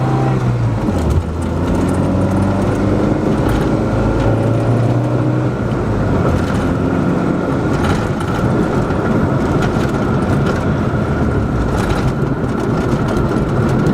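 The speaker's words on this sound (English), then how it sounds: "we're just gonna go ahead and drive it around the block." A rebuilt Honda car with a swapped motor drives around the block, its engine a steady loud rumble with shifting tones as it accelerates, broadband road noise throughout.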